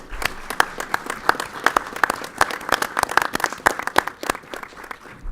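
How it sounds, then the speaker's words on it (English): Applause from the audience at a school board of education meeting: scattered, moderately close hand claps of a modest crowd that continue steadily for several seconds, with no speech over them. "So if you could please join me in a round of applause and appreciation for our school board."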